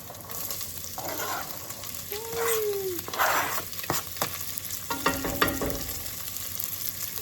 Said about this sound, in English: I'm going to come in with some onions.